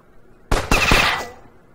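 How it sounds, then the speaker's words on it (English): Short automatic burst from the Heavier Tank in Battle Nations: a loud cluster of three or four quick cannon-like shots in under a second, with a ringing metallic tail fading out afterward. "The auto fire doesn't go very far either"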